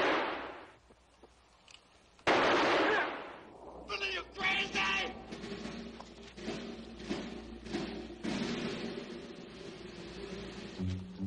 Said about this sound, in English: all this shooting and he ain't even touched him yet